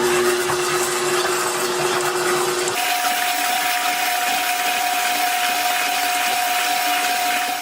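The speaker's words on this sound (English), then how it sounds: "with your KitchenAid, you want to pull the knob up so that the spinner does mix" A KitchenAid stand mixer runs at a steady, loud motorized whir while mixing cookie dough, its pitch shifting once partway through as the speed changes, with no talking.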